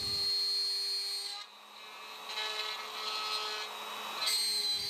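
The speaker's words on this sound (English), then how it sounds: "run your router through it" A router guided by a jig cuts a dado in plywood, giving a high whining motor tone that dips briefly and then rises into rougher cutting noise before settling again.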